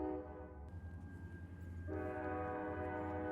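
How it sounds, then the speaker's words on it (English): A train goes by and sounds its horn, a sustained harmonic blare that shifts and swells partway through over a low rumbling of rail cars, distant and fairly faint. "There's a train going by."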